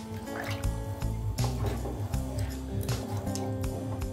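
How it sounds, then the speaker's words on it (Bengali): Hot water, tinted yellow from a marinade bowl, is poured into a pot of thin chicken curry with potato and papaya, giving a steady splashing, trickling flow that lasts the whole few seconds over a faint tonal background hum. "গরম জলটা অ্যাড করবো"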